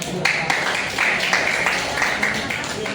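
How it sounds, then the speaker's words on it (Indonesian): A classroom of students applauds a presenting group, with scattered claps heard under ongoing chatter and voices in a moderately noisy room. "kasih tepuk tangan untuk kelompok dua"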